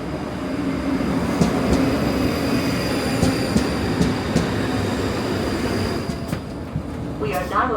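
A train pulls into Dalreoch, a junction station near Loch Lomond, with a steady rumble of wheels on rail throughout and a brief squeal of brakes near the end, close and fairly loud.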